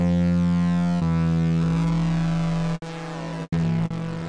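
Ring modulation synthesizer tone with pitch tracking on, a loud sustained buzzy electronic drone whose metallic overtones shift and sweep, cut by two brief dropouts near the end.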